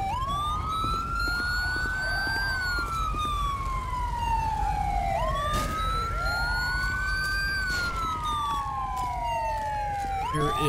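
Emergency vehicle sirens in the video game GTA V with the LSPDFR police mod, a loud wailing siren sweeping slowly up and down in repeated cycles, layered with a second siren tone over a low engine rumble, with no talk.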